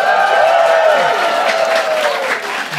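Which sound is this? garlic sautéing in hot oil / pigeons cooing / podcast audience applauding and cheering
podcast audience applauding and cheering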